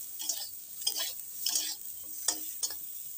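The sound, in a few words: eggplant frying in oil in a pan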